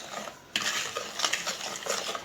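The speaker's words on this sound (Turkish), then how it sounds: "Şimdi bir çay bardağı toz şekerimizi ekliyoruz ve ilk önce şöyle bir karıştırıyoruz." A spoon clinks and scrapes around a bowl, stirring sugar into beaten eggs for a soufflé. Short irregular taps and swishes follow a sudden start, close and fairly quiet.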